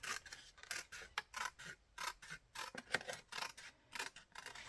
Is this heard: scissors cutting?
yes